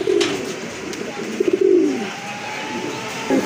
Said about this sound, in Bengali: দেখার মতো এক জোড়া কবুতর